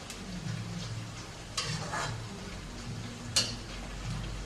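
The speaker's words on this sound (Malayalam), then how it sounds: "നമ്മുടെ ഉള്ളി ചെറുതായിട്ടൊന്ന് വാടിയിട്ടുണ്ട്, അപ്പം നമുക്ക് ഈ കറിവേപ്പിലയും കൂടെ ഇട്ട് കൊടുക്കാം." Onions with curry leaves frying in a pan for Kerala-style beef pickle give a steady close sizzle, with a couple of brief stirring scrapes and no voices.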